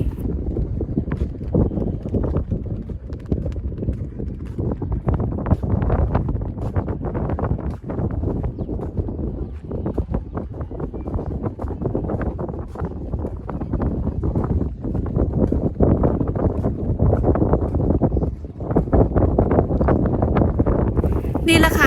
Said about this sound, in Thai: อยากให้สัมผัสกับธรรมชาติจริงๆ เสียงลมเสียงพัดเย็นสบายแห้งๆพี่น้อง